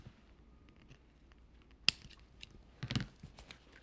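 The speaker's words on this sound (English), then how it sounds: "And then I can cut off the extra." A single sharp snip of scissors cutting excess duct tape from a doll's visor, followed shortly by a softer rustling cut, close and quiet against a still room.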